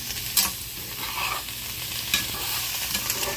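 Scrambled eggs and home-fried potatoes being stirred in a pan, a steady scraping and shuffling with irregular utensil knocks over a continuous soft sizzle, close and moderately loud with no talking.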